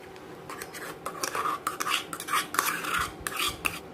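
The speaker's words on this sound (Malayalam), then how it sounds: "ആദ്യം നമുക്ക് പഴം ചേർത്ത് കൊടുക്കാം." Ripe banana is stirred into unniyappam batter, with a close, uneven run of wet mixing strokes and light spoon scrapes and clinks against the bowl.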